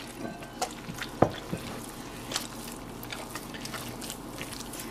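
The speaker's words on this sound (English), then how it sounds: "And just a little bit more water." Water is added to masa dough while making pupusas, giving faint, scattered drips and small wet splashes with one sharper plop, close by and without talk.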